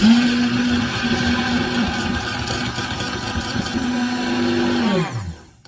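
A handheld mixer whirs steadily while beating mayonnaise ingredients with Dijon mustard. The motor holds an even, loud drone for about five seconds and then winds down and stops.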